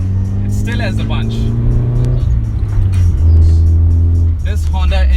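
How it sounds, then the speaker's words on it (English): Modified Honda City Type 2 engine pulling hard while driving, a loud steady rumble with rising rev tones that dip and climb again, heard from inside the car with a voice speaking over it at times. "This Honda engine is so smooth that you don't feel anything at all."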